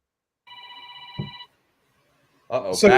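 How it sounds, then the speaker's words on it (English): A telephone rings once with a steady electronic trill lasting about a second, clear and close in an otherwise quiet room, followed after a pause by a person starting to speak. "somebody's calling the bat phone."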